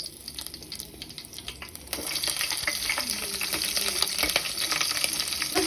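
Curry leaves and green chillies crackle and sizzle in hot oil, a steady dense frying hiss that jumps louder partway through as more go into the pan, with a few stirring scrapes and no talking.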